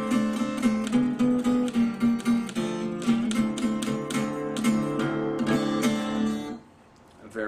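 Acoustic guitar in open tuning plays a blues turnaround, picked notes over ringing bass strings, close and clear, fading out near the end.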